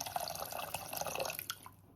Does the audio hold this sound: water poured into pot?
yes